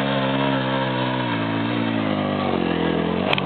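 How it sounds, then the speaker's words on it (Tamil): An off-road motorcycle revs loudly and steadily at Alambarai Fort, the engine's buzzing drone holding high before sagging slightly toward the end. "நோ நோ நோ நோ முறுக்காத வண்டி முறுக்காத"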